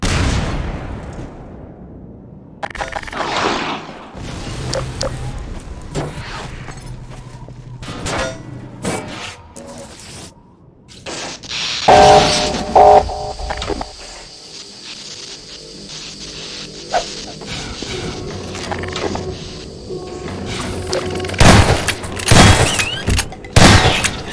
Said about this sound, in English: the player gets to use physics to jam the gun's mechanism and cause it to break